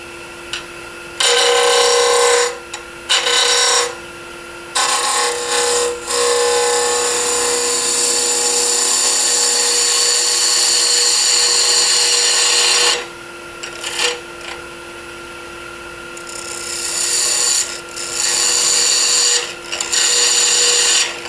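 A segmented wooden bowl blank spins on a lathe while a cutting tool shaves it down flat and thin, giving loud bursts of rasping, scraping cuts that start and stop repeatedly between quieter spinning hum.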